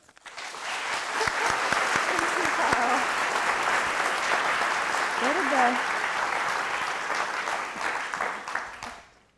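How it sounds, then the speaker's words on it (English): Audience at a Yale talk on storytelling and science applauds the speakers: a steady, dense clapping that swells quickly, holds for several seconds with a few voices mixed in, then fades out. "So let's make that clear by giving a big round of applause for Liz and Ed."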